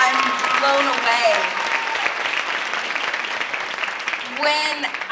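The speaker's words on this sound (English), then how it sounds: "Give her one more round of applause." Sustained applause from the audience at a women's empowerment expo panel in Los Angeles, steady dense clapping with cheering voices through the whole stretch and a brief swell near the end.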